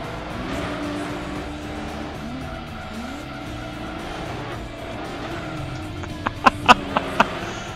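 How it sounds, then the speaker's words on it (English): A TVR V12 engine roars steadily at speed in Gran Turismo 2, a sustained racing drone with shifting pitch, followed near the end by a few sharp clanks or impacts. "V12 just kicked in, yo!"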